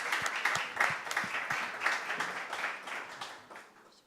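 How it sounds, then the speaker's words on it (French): An audience at a French round-table talk applauds the speakers with a fairly faint, steady patter of clapping that thins and fades away toward the end, with no voices over it. "Je crois qu'on peut applaudir nos intervenants."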